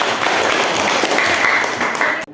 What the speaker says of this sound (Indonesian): Oke, tepuk tangan dulu untuk Wahyuni.